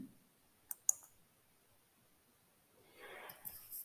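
Two sharp, quiet computer mouse clicks come close together, then a soft rustle follows in an otherwise near-silent room.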